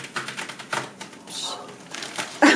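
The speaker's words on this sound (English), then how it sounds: "This is the sound of ungluing from the paper." Short, dry crackling and peeling sounds of glued paper being pulled apart on a papier-mâché piñata come up close in quick irregular bursts, ending in a louder rip.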